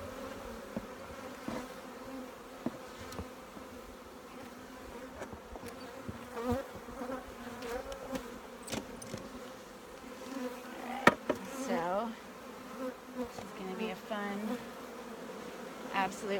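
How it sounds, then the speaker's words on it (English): Honeybees buzz continuously around an open hive, a dense, close swarm hum with individual bees zipping past now and then. "Absolute bonanza of bees, you guys."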